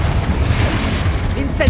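Confringo blasting spell in a Harry Potter video game, a heavy booming explosion with low rumble, with spoken voice over the blast.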